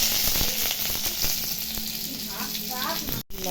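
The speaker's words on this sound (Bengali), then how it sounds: "এখন পেঁয়াজ আর টমেটোটা ভেজে নেব।" Chopped onion and tomato fry in hot oil with cumin in a wok, giving a loud, steady sizzle that runs throughout with only a brief break near the end.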